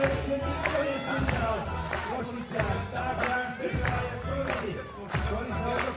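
A stadium crowd in Košice at an athletics jump meet roars and chants in rhythmic surges behind a high jumper before his third and final attempt, a dense, loud wall of voices with pulsing cheers.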